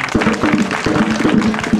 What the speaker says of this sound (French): je souhaite qu'on vous applaudisse très fort